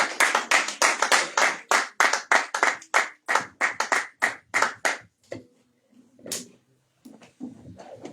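A church congregation claps together to acclaim the Lord during a French-language service: steady, loud rhythmic claps in unison, about three per second, then stopping into scattered faint sounds and murmurs.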